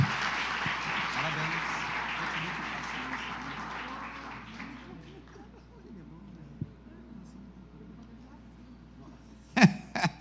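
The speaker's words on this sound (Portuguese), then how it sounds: "E dê aquele belíssimo aplauso a Cristo" A church congregation applauds during a Sunday celebration service, the clapping loud at first and then tapering off over several seconds into near quiet, with a few faint knocks and a brief sharp noise near the end.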